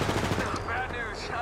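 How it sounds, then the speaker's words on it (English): Apex Legends gunfire, a quick volley of rapid shots up close, overlapped by in-game voice callouts. "Shots fired, and they're hitting me"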